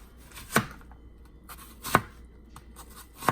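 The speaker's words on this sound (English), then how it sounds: "I'm going to finish chopping the onion" A knife chops an onion on a cutting board in three sharp, separate strikes about a second and a half apart, with quiet pauses between them.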